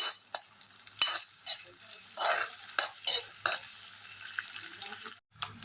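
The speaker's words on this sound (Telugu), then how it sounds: "ఇవి ఇలా కలుపుతూ ఒక 2 నిమిషాల పాటు వేగించుకోవాలండి" Green chillies fry in a pan under steady stirring, with a light sizzle and intermittent scraping strokes of the spoon, fairly quiet and close.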